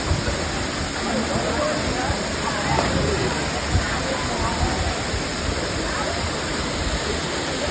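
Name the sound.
waterfall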